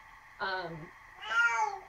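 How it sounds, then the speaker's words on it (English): A cat meows twice in quick succession, close by and fairly quiet, the second call higher and longer than the first. "If you hear that noise in the background, that's not a baby. That's a cat."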